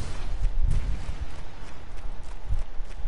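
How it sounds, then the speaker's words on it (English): Footsteps from the video game Resident Evil 5, heard as a steady run of soft low thuds that tagging reads almost like clip-clop hooves, moderately loud over a dull game backdrop with no talk. "The sound of our footsteps does not sound right."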